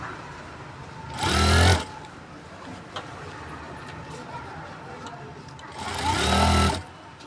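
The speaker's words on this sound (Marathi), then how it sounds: "इथे येऊन थोडी शिलाई आपल्याला खाली उतरवायची।" A sewing machine stitching a stand strip onto a kurti collar, two short loud whirring runs of about a second each separated by quiet room sound, close by.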